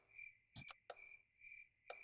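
Nighttime crickets in the Super Auto Pets video game chirp in short rhythmic pulses with a few sharper clicks between them, faint and steady with no talking.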